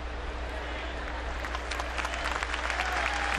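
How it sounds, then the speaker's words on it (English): Baseball stadium crowd applauding a fielder's effort, broad dense clapping and cheering swelling slightly toward the end, with a low steady hum and an announcer's voice faintly under the noise. "Crowd applauding the effort of Luke Scott to go grab it finally."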